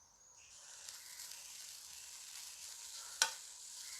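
Curry leaves sizzle and crackle steadily in hot oil in a pan, a bright fairly quiet hiss with one sharp pop near the end.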